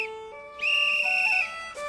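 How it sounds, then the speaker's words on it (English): A handheld whistle is blown as loud as possible by someone lost in the woods, giving a steady shrill tone that holds for about a second over a faint background hum. "I blew my whistle as loud as I could."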